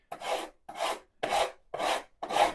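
A fine-toothed rasp files a guitar fret in five steady, even strokes, each a close, dry scraping rub separated by short pauses.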